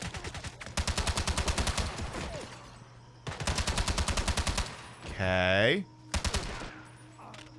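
Automatic gunfire in James Bond 007: Blood Stone: loud, close bursts of rapid shots in two long runs, with a short rising electronic sweep and a final brief burst, and a brief spoken word.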